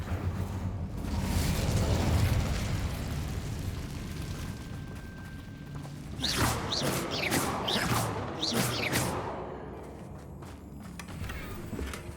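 An Incendio fire spell cast in Hogwarts Legacy gives a sustained roaring, crackling whoosh, followed by a run of bright sizzling bursts and pops about halfway through, then a gradual fade.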